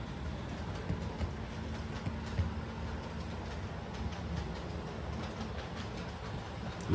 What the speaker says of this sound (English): our little via rail locomotive that will be pulling passenger coaches